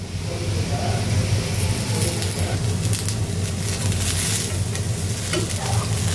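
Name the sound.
potatoes frying and being stirred for aloo bhaji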